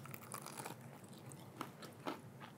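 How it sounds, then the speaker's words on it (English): Someone bites into crunchy Nashville hot fried chicken with a sauce-soaked coating, giving a few quiet, close crunches and chewing sounds over faint background noise. "What's so interesting about this style of fried chicken is that you still get crunch"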